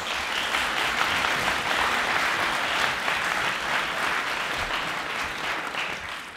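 An assembly at a French debating competition applauds the opposition leader with steady, sustained clapping from many hands, even and full throughout before easing slightly at the end.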